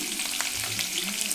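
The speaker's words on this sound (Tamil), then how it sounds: "எல்லாம் போட்டு நல்லா வதக்கிக்கோங்க." Curry leaves, onion and green chilli sizzle and fry in a hot pan, a steady close crackle with brief stirring scrapes and no voices.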